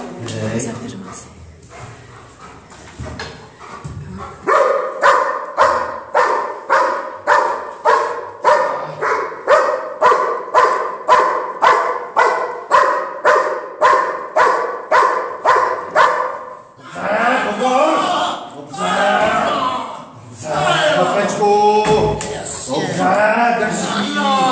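A police dog named Pierre barks inside a building during a suspect apprehension, loud regular barks repeated in a long steady run, followed by excited barking mixed with a handler's shouts.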